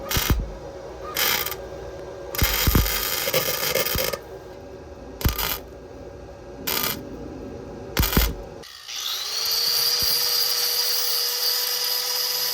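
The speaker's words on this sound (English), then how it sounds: "we're just going to tack it just a little bit in each segment just to make sure that it's not going anywhere." Tack welds on a sheet metal hood stack shroud come as about six short, harsh crackling bursts with quiet between them, then give way to a steady machine whine.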